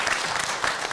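Studio audience at a televised political debate show applauding, a brief dense wash of many hands clapping at moderate loudness.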